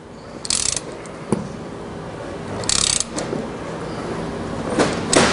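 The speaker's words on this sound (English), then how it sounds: "Just snug that nut down." A nut being tightened with pliers on a van cross-view mirror mount makes repeated bursts of metallic ratcheting and grinding clicks, with short scrapes and knocks between them, close and fairly loud.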